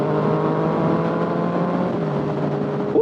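Yamaha FZ09 motorcycle accelerating on the road, heard from the rider's position as a steady, loud engine drone with a strong harmonic hum and wind noise throughout.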